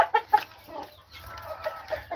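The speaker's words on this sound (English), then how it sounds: "Alright, chickens. Come here." Chickens clucking up close on a small farm, several short bursts of clucks and calls in a loose, irregular rhythm with quieter low rustling between them.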